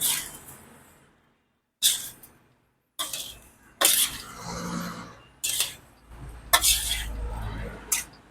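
Food is stirred in a pot with a utensil, producing bursts of scraping, clinking and sizzling rubs separated by brief pauses, close and fairly loud.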